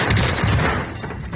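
Rapid gunfire bursts in Call of Duty Warzone on Rebirth Island, dense and loud with overlapping shots that dip briefly before a final burst.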